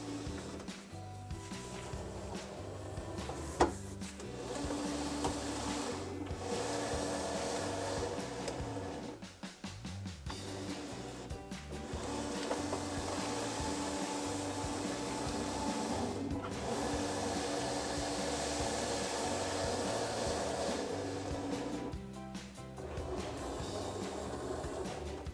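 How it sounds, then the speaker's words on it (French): A Cricut cutting machine works through a birthday calendar with a continuous mechanical whir and rhythmic motor patterns. Short pauses and clunks break the run now and then as the carriage shifts. The sound is steady and close, with no speech. "Et la découpe commence."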